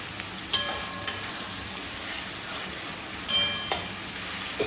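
Dried red chilies, green chilies and tomato paste fry with browned onion in a pan, giving a steady, moderate sizzle broken by a few sharp clicks and scrapes of stirring, with no voices.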